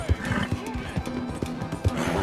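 A horse whinnies in Red Dead Redemption 2, a short wavering neigh mixed with snorts and hoof thuds, close and loud among other game noises and brief voices.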